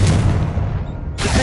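A Confringo fire spell bursts in Hogwarts Legacy, a loud, low, rumbling boom that sustains across the moment before a sharp bright crackle returns at the end.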